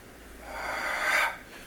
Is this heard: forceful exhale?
yes